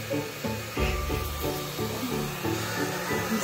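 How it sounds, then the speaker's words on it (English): A blow dryer runs steadily inside a warm house, drying a newborn lamb, giving a continuous broadband whoosh with faint shifting and rubbing noises under it and no talking. "Have the blow dryer on him in the warm house."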